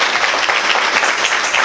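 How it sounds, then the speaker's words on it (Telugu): A church congregation claps together in a dense, steady wash of applause that holds at full strength from start to finish, with no clear voice above it. "గట్టిగా ఏమనంత వినపడితే చప్పట్లు కొట్టండి."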